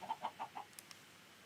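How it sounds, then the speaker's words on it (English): Chickens clucking in a PS5 video game, a quick run of four soft, evenly spaced clucks followed by a couple of faint higher chirps, quiet and close. "Hello, chickens."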